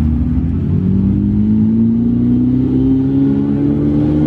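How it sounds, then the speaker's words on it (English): Porsche cars roll into a night-time street car meet, a steady engine drone that slowly climbs in pitch as they approach, loud and continuous with no talking. "I think we got some Porsches rolling in."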